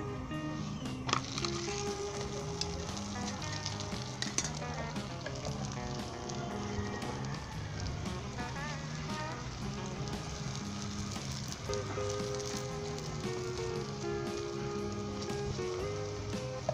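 A paratha cooks in ghee on a griddle, sizzling loudly and continuously up close, with tonal background music running underneath.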